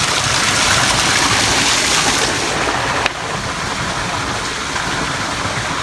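Spring water pours straight out of rock at a riverside, a loud, steady, broadband rush of flowing water that continues unbroken throughout, with no voices.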